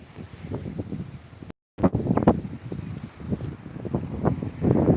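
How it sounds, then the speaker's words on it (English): Rising outdoor wind buffets the microphone at a 12th-century priory site, giving gusty, rumbling bursts that swell and fade, briefly cut out, then build louder toward the end. "So the wind's picking up too."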